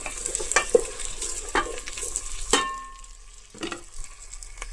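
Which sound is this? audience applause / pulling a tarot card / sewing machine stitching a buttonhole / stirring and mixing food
stirring and mixing food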